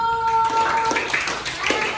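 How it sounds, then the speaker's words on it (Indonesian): Schoolchildren in a classroom clap their hands together, quick bursts of clapping mixed with voices and a sustained tone in the first half, fairly loud and close. "kasih tepuk tangan dulu"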